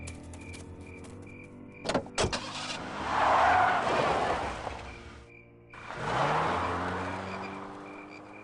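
A vehicle in the video game Full Throttle Remastered starts with a couple of sharp clunks, then its engine revs up and roars, dips, and roars again as it pulls away.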